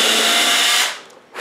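A power drill whirs steadily at high speed drilling thin wood, then winds down and stops, followed by a short renewed burst of whirring.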